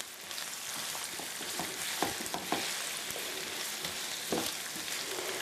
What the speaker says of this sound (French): c'est de faire suer les légumes, faire suer l'oignon et de faire rôtir graduellement le tofu